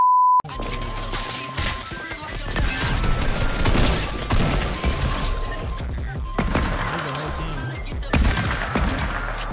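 Sustained video game gunfire from a shootout between other players: a beep, then rapid overlapping shots and bursts that swell and fade across several seconds, with a voice talking over the fighting.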